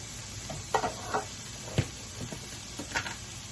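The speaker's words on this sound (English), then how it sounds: "We're just sauteing them on about mid-low." Vegetables sauteing over mid-low heat with salt, pepper and minced garlic, a soft continuous sizzle broken by scattered light taps and stirring clicks, quiet and close.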